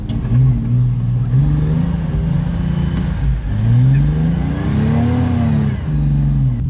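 An Alfa Romeo 75 Turbo drifting, its engine revving hard in long rising and falling sweeps, loud and close, with the pitch climbing and dropping between throttle bursts.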